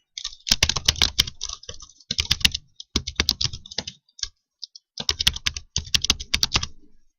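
Rapid keystrokes on a computer keyboard while working in Word 2013, coming in several quick bursts of clicky typing separated by short pauses, close and clear with no voices.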